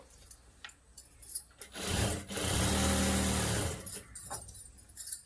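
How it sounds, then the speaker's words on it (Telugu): A normal sewing machine stitches the fall onto a saree. It runs in one loud, continuous burst of a few seconds in the middle, with short mechanical clicks and rattles before and after. "ఈ విధంగా నార్మల్ మిషన్ పైన సారీ ఫాల్ అనేది ఈజీగా కుట్టుకోవచ్చండి"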